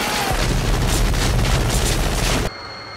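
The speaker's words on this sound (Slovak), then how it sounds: "zvuk výstrelu v lese" Dense, booming gunshot-like blast with reverb, as if fired in a forest, sustaining loudly for over two seconds before cutting off abruptly to quiet.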